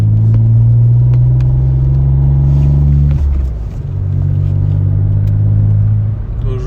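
Hyundai i20 driving on the road in eco mode, a steady loud engine hum and tyre rumble inside the cabin, dipping briefly midway as revs drop, then resuming.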